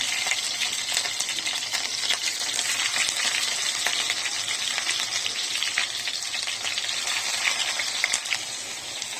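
Kachki fish paturi parcels in leaves frying in hot mustard oil, a steady, dense sizzle with crackling spits that holds at an even loudness throughout, no voices.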